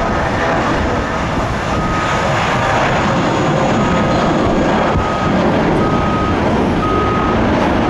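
A continuous roar of an inbound jet airliner passing overhead on approach to Tampa airport, loud and steady, with faint beeping from machinery in the background.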